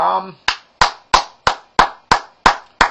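A single person claps their hands eight times in an even, deliberate rhythm, each clap sharp, close and loud with silence between, after a brief bit of speech at the start.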